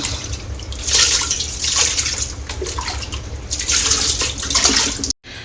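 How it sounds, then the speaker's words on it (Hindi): Tap water runs steadily and splashes while dishes are washed by hand at home in Arunachal Pradesh, a continuous close hiss with small surges and drips, ending in a sudden brief cutoff. "तो थोड़ा सा बर्तन धोते हैं।"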